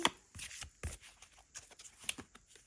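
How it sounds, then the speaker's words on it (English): Tarot cards being shuffled close up, a quick run of soft riffling and flicking bursts, fairly quiet with no talking. "I'll give a little shuffle."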